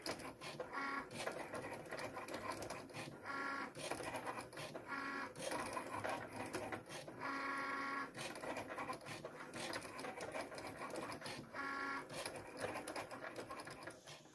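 Inkjet printer running at high quality while printing on transfer paper for customizing a T-shirt, a steady mechanical drone with rhythmic carriage passes and repeated brief rattling bursts, close and continuous.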